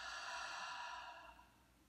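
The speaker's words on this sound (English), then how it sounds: "Inhaling through the nose and exhaling out the mouth" A person exhales slowly out through the mouth after breathing in through the nose, a soft, close, airy rush that fades gradually into quiet.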